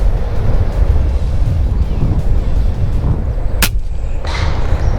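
Heavy, gusty wind buffets the microphone outdoors during a long-range air-rifle hunt, a continuous loud low rumble throughout, broken by one sharp crack near the end.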